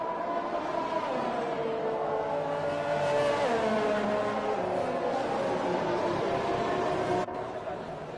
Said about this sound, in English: Marcus is leading the pack now, so there's the McLaren is just in the pit